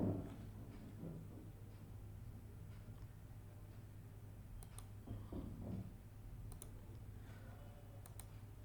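Faint, sparse computer mouse clicks tap out one at a time against a quiet room hum while Google Forms is opened, with no talking.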